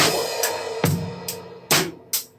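A basic drum beat with a crash cymbal struck on beat 4, loud splashy crashes recurring about every 0.85 seconds over steady hits, close and alone without speech.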